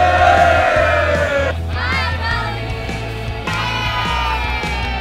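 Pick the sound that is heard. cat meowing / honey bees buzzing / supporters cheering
supporters cheering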